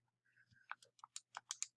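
Plastic calculator buttons are tapped in a quick, uneven series of soft clicks, about nine presses in under two seconds, close and quiet with no talking.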